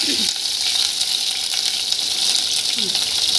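Curry leaves spluttering in hot oil, a loud, steady crackling sizzle with sharp pops throughout.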